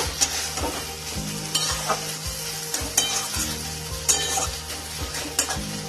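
Ghee being stirred into a banana flower curry in a pan, a loud close sizzle under rhythmic scraping of a spatula against the metal, the strokes repeating every second or so.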